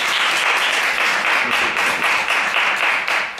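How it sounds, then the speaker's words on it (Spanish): An audience at a film forum claps enthusiastically, a dense, loud and steady applause close by that holds without pause, with no voices over it. "un aplauso para Manuel Hidalgo."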